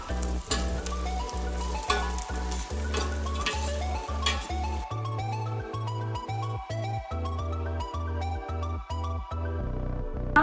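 Food sizzles and fries in hot ghee in a pan for Kerala-style ghee rice, with a steady crackle and repeated stirring scrapes of a spoon against the pan throughout.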